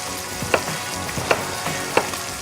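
Breast of lamb browns in a hot pan, giving a dense, steady sizzle and crackle close by, with a few sharper pops spaced at regular intervals, no voices.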